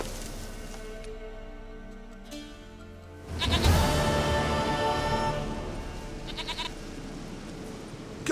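A goat in The Witcher 3: Wild Hunt bleats several times. The calls are faint in a quiet setting at first, then grow louder and denser partway through.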